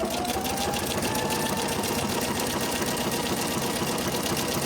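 Sewing machine stitching with metallic thread at a wide 6mm setting, a close, continuous rapid mechanical chatter filling the whole stretch without pause.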